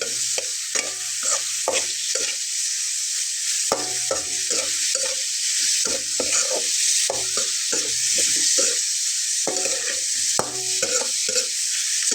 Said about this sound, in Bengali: তো এখন আমি এর ভেতরে মশলাটা দিয়ে নিচ্ছি। সবগুলো দিয়ে একসঙ্গে একটু ভাজবো।